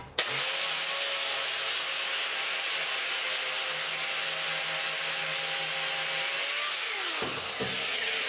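A buffer wheel with roughly 60-grit abrasive grinds steadily across the metal top of a Lincoln Ranger 10000 generator welder. The loud, continuous whir and scrape runs for about seven seconds, then the tool winds down.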